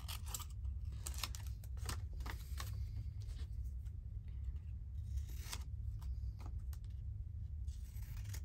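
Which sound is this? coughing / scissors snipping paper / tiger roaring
scissors snipping paper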